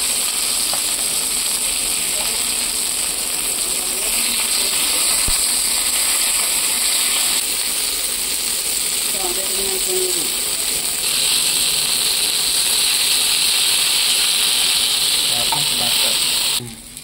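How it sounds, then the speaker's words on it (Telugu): Crispy fish fries in oil on a tawa, with a loud continuous sizzle close by and occasional scraping and clinking as the pieces are turned. "వీటిని కూడా ఫ్రై చేసేసుకున్నాము ఇలాగా."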